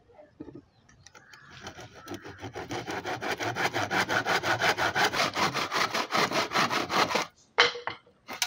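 A handsaw cuts through wood for a squirrel cage frame, with rapid, rhythmic back-and-forth strokes that build in strength and speed to a steady rasping pace, then stop, followed by a couple of knocks.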